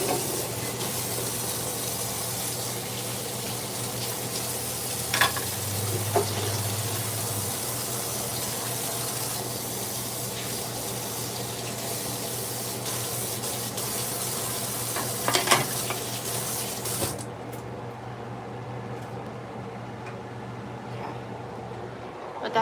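Onion and bell pepper frying in a pan while being stirred, a steady sizzling hiss with occasional scrapes and clinks of the utensil, close and continuous, with no talk over it.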